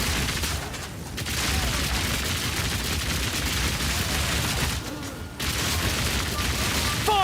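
Rapid, dense volleys of crossbow fire from an automatic crossbow in Path of Exile 2, a continuous loud barrage of shots with booming impacts that pauses briefly twice before resuming.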